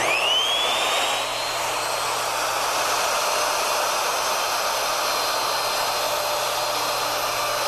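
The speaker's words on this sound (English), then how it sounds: "Don't overload the router by plunging too deep" A wood router cuts a mortise with a loud, steady high-pitched whine that starts sharply, then settles into a constant cutting roar.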